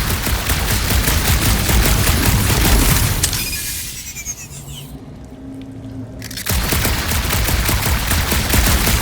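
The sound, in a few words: gunfire in Marvel's Guardians of the Galaxy video game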